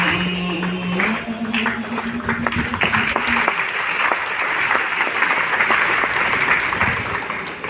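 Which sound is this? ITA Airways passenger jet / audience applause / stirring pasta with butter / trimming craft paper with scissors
audience applause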